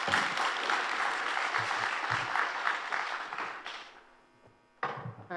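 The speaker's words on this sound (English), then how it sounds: "Please welcome her with a warm applause." A conference audience at a geospatial technology plenary session claps warmly for a few seconds. The clapping fades into near quiet, then a short burst of sound and movement follows.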